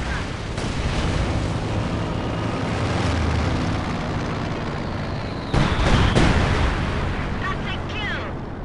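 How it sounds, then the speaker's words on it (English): Incendiary artillery barrage in the World War II strategy game Company of Heroes 2, Reichstag mission: a loud, continuous rumble of shelling and gunfire, with a sharper cluster of blasts and whistling near the end. "Launching incendiary artillery barrage."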